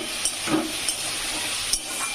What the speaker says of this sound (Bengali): মাংসের মশলাটাকে ভেজে নিচ্ছি